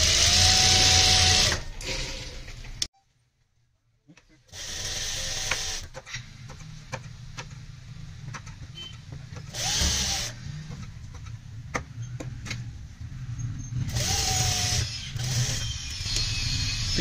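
Sewing machine stitching a zip into the back of a Punjabi suit: a steady mechanical whirring run with repeated surges and short pauses, one brief silent gap, close and fairly loud with no talking.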